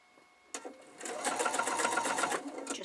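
A sewing machine stitches a quarter-inch patchwork seam on a large Cathedral Windows quilt: a single click, then a close, steady rapid whirr of needle strokes for about two seconds.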